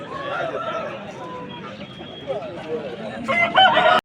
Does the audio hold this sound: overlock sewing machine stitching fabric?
no